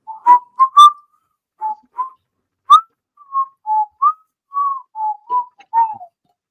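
A person whistles a slow, wavering tune in short separate notes, clear and close, with no other sounds.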